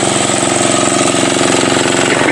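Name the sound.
diesel engine of irrigation pump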